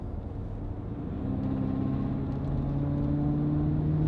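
A BMW F90 M5 fitted with a full titanium exhaust and free-flow downpipes revs at low RPM, a steady, deep engine drone rising and holding with a tonal hum, heard alone and fairly quiet.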